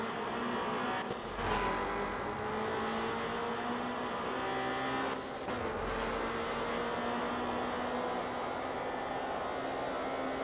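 Car engine in the Night-Runners street-racing game on the Wangan highway, revving steadily with two distinct gear shifts marked by brief dips and thumps, sustained and loud without any talk.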